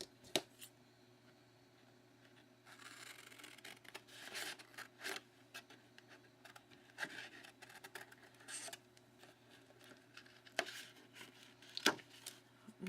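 Scissors snip paper card into pieces for a small gift box, a close, quiet run of irregular cuts, rustles and scrapes with brief pauses between.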